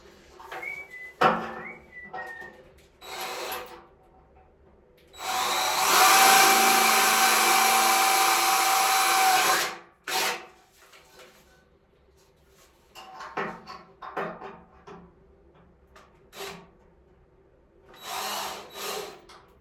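A power drill bores holes inside a cramped, home-built personal submarine. One loud, steady drilling run lasts about four seconds, with shorter, quieter tool bursts and handling clatter around it.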